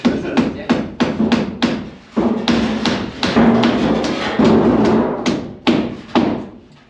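Hammer driving nails into wood while a ceiling is being boarded, loud sharp repeated blows in quick irregular bursts, close by, with no talk over them.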